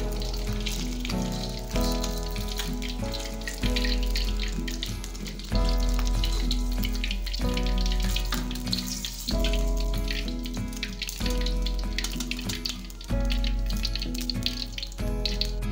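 Tongkol tuna fish frying in oil in a pan, a steady crackling sizzle with bubbling texture, close and continuous under a low hum, with no talk.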